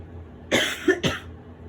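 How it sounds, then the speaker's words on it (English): Two quick, close coughs in a row, sharp and loud, in an otherwise quiet room. "Sorry for my cough there."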